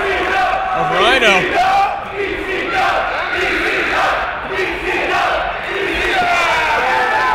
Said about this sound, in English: The crowd trying to will Rhino along.